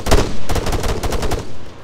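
Soldiers in the military shooter ArmA 3 fire bursts of gunfire, a close, loud run of rapid cracks that goes on almost without a break.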